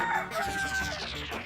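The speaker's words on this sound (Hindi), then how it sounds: "ये मेरे कान बज रहे हैं कि कहीं सच में मुर्गा बोल रहा है" A rooster crows once nearby, a rising then falling call lasting about a second, loud and clear, with no talk over it.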